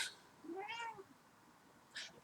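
A cat gives a single clear, rising-and-falling meow near a garden flower bed by a wooden porch, followed by a brief faint chirp, with quiet surroundings and no talking.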